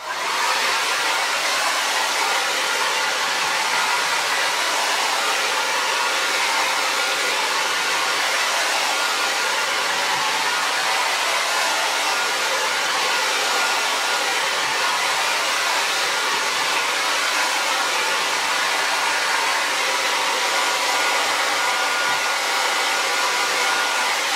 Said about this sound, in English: Hairdryer to retain the freshness of the marks before I get charcoal on it.